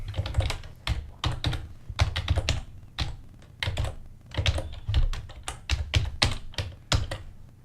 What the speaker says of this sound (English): go here, type debug.log hello